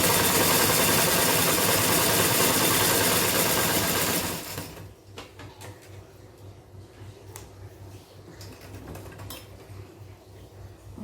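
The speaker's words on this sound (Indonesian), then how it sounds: "Jadi pinggir-pinggirnya ini kita jahit lagi ya" A sewing machine stitches the joined fabric edges of a child's toy teepee tent, running loud and steady for about four seconds, then stopping and leaving only quiet room noise.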